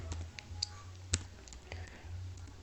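A computer mouse clicking while working in pattern-making software, a few soft close clicks with one sharper click near the middle over a low background hum.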